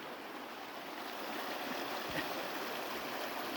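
River water rushes steadily and broadband while an off-road vehicle traverses a river in Romania on the TET trail near Borsa, a continuous close wash with no talk.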